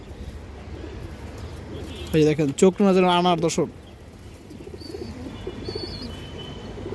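Khaki racing pigeons coo softly and steadily in the background, with someone talking briefly over them partway through.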